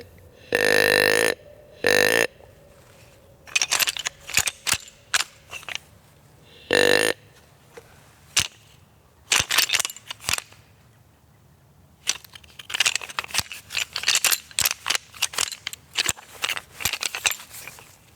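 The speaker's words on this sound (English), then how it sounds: "let out a couple of grunt and rattle combinations" A hunter in a tree stand sounds a few short, buzzy deer grunt calls, then rattles antlers in bursts of sharp clacking and clicking, close and uneven.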